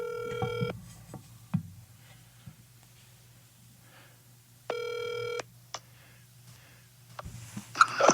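A telephone rings twice for a podcast call, with two bursts of electronic ringing about four seconds apart over a low steady hum, plus a few faint clicks between the rings.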